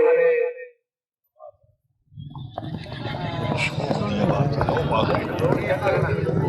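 A horse galloping at a neza bazi tent-pegging event on the Ravi in Pakistan, with busy hoof clatter and broad crowd or field noise building steadily after a short pause, while an announcer's voice is heard at the start.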